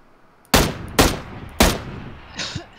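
Three sharp, loud gunshots ring out close up in an online squad shootout game, spaced roughly half a second apart, each with a quick decaying tail, followed by a fainter distant pop.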